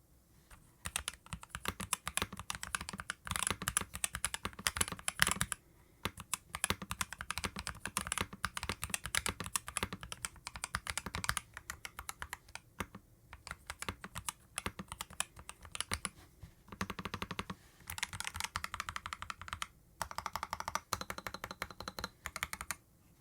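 Rapid, steady typing on an EPOMAKER Magcore65 Lite, a compact 65% keyboard, with dense close clicks and clacks running continuously and a few brief pauses, no voices.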